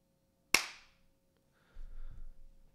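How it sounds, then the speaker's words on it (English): A single sharp hand clap is made as a sync marker during a podcast recording. It is loud and close, with a short ringing decay, followed by a faint low rumble and quiet room noise. "I'm going to do a quick clap so he can kind of find it easier."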